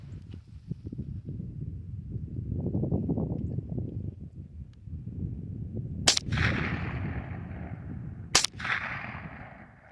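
Two sharp, light cracks from a Colt M4 .22 LR rifle are fired outdoors about two seconds apart, each with a short ringing tail. Before them, low rumbling background noise and handling sounds fill the gap.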